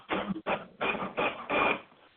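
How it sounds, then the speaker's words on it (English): A printer runs in the background in a series of five mechanical bursts, whirring and rattling with short pauses between passes, moderately quiet and with no voices. "Y'all can probably hear my printer going off in the back."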